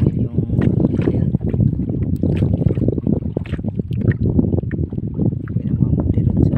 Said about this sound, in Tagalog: Medyo humangin. Humangin yung ayan.